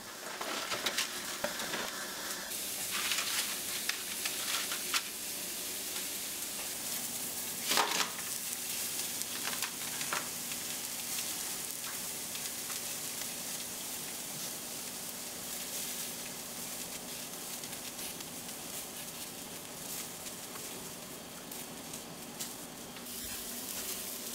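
Sausages fry in a hot pan with a dense, steady sizzle and crackle that carries evenly throughout, with occasional louder pops and spatters and no talking.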